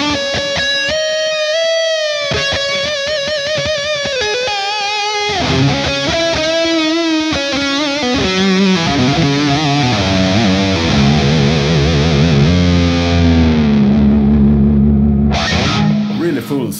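Jackson RRX24 electric guitar played through its neck pickup, a full, sustained tone with chords and single-note lines, lightly driven, running steadily for about seventeen seconds with no talking.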